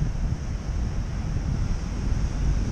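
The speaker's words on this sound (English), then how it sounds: "it's been a bit of a cloudy, windy day today." Wind buffets the microphone on a cloudy day at Bloubergstrand beach, a constant low rumble with surf washing underneath, loud and close throughout.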